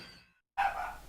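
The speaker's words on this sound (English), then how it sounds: "He's barking." A dog gives one sharp bark up close that rings out briefly, following a faint tonal hum that drops to near silence just before.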